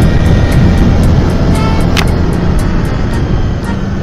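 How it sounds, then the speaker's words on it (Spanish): A Zontes V1 350cc motorcycle climbs a winding mountain road through the Sierra Juárez in Oaxaca, its engine a loud, steady roar mixed with wind rush, with faint regular ticking above it. "No sé si se alcance a, a oír el rugir de la moto, ¿verdad?"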